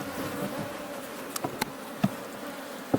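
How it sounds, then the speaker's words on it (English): Bees buzzing around a beehive at an African honey operation, a dense continuous drone with a few louder passes close by and brief clicks. "So they said this bee population works more than all the others, and half of their harvest came from this particular beehive."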